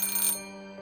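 A telephone rings nearby with a steady electronic tone, loud at first for about a third of a second, then a sustained fainter ring that fades out, with no talking.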